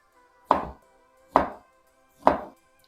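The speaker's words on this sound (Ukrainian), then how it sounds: "Ковбаску наріжу також кубиком." Three evenly spaced knife chops thud through sausage on a cutting board, crisp and close, with quiet gaps between each cut.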